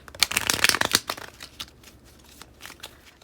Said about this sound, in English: I think I'm starting to get the shuffling thing down.